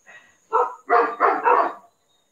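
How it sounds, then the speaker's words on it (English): Several dogs bark in a short burst of four or five loud, close barks, a quick volley with brief gaps and no talk over it, heard somewhere in North Texas. "Can you guys hear the dogs?"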